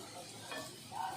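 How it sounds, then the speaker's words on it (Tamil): Puri frying in a pan of hot oil, giving a steady close sizzle with light bubbling and a faint stir or clink, and no speech. "எண்ணெய் சட்டியில் போட்டு பூரியை பொரிக்க வேண்டும்."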